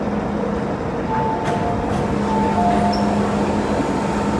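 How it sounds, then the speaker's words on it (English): A Hong Kong metro train pulls into Mei Foo station, a loud, continuous rumble with a steady motor whine and brief brake squeals rising over it, and no voices. "The train has arrived on the outside"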